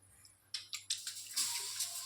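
Water is poured and splashed while jowar roti is being made, coming as a few short bursts that settle into a steady, fairly faint trickle at close range.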